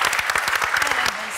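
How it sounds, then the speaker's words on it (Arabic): An audience claps in a quick burst of applause on a Tunisian television singing show, the dense patter fading after about a second while a voice carries on over it. "تصفيق"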